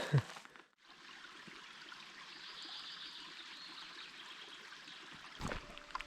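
A small mountain stream flows steadily beside a hiking trail up Mount Khomyak, a close, continuous rushing trickle that fills the whole stretch, with a couple of brief knocks near the start and end.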